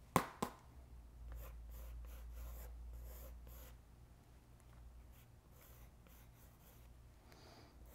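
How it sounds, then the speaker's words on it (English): Pencil drawing of an orca being erased: a couple of sharp taps open, then a soft, steady rubbing scrub continues close up and quiet, fading toward a faint hiss with no talking. "I'm gonna erase a couple of these back here too."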